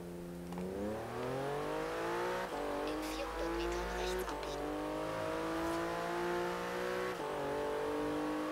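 Sports car in Forza Horizon 3 accelerating hard from second gear, engine revving up through several rising sweeps with gear shifts and some tire squeal, loud and continuous throughout.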